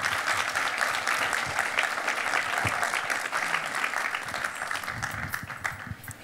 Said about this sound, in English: Let's give one more round of applause to Tracy K. Smith.